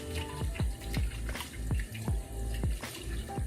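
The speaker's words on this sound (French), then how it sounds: "Maintenant on rince." Water runs and splashes during rinsing at a home spa routine, close and fairly quiet, with a steady pouring wash broken by repeated falling gurgles in a loose rhythm.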